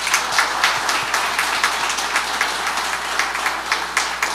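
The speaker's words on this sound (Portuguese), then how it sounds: "Vamos dar uma salva de palmas" A church congregation applauds during a Mass homily, a dense, even burst of many hands clapping that fills the space for several seconds.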